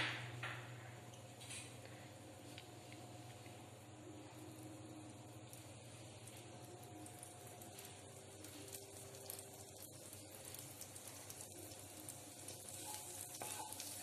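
Leftover butter melting and sizzling in a pan on the stove while making restaurant-style mushroom gravy, a faint steady crackle and hiss with a few light clinks, close by and without talk.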